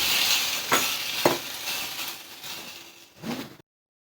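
Mustard seeds and a single dried red chilli sizzle loudly in hot ghee, a dense close crackle broken by a few sharp pops, before the sound cuts off abruptly.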